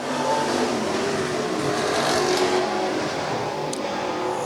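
IMCA stock cars and super stocks roll off for their main events at USA Raceway, a dirt oval. A dense, continuous roar of many engines fills the air, steady and loud from a distance.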